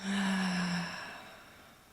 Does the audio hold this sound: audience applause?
no